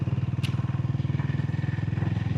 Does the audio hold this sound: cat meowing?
no